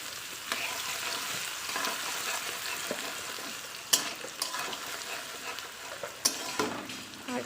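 Garlic dropped into hot oil sizzles steadily in a pan, with a few sharp stirring clinks and scrapes punctuating the continuous frying hiss.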